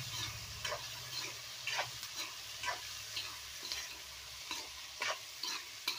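Chopped tomatoes being stirred into tamarind leaf kadaiyal in a pan: a soft sizzle under regular scraping strokes of a spoon, roughly every half second, close and quiet, with no voices.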